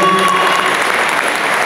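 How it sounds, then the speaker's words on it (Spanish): Concert audience at a youth municipal orchestra performance claps in a dense, loud burst of applause that holds steady and slowly tapers. "Si ustedes escuchan demasiado aplauso de aquel lado es que tenemos un público pago en aquella facultad"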